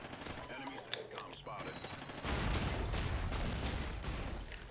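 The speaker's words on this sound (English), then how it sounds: "As I was walking forwards, I was shooting my gun." Gunfire in Call of Duty Ghosts, first a few scattered shots, then a sustained rapid stream of automatic fire that grows louder and holds steady to the end.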